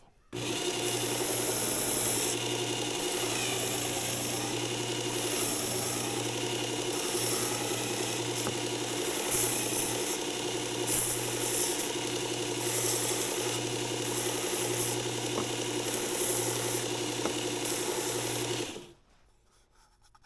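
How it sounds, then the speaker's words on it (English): An abrasive grinder works glue residue off the outside of a homemade fluid bed cup for powder coating, a steady loud whirring grind that runs continuously before cutting off at the end. "So all we're going to do now is grind that off."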